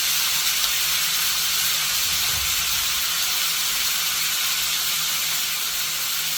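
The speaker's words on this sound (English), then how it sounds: "So I'm just gonna sear for 6 minutes on each side" Pork chops searing in a hot pan, a loud, steady, broadband hiss that continues evenly from start to finish, close and uninterrupted.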